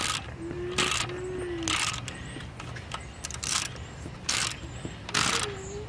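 A worn ratchet handle is cranked on a 1993 Chevy S10 during an alternator swap, giving a series of rough, gritty bursts of clicking at close range with short squeaks in between and no voices.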